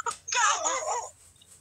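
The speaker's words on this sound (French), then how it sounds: "C'est le chien." A dog lets out a short, high whimpering whine, close and fairly clear, lasting under a second after a brief faint sound.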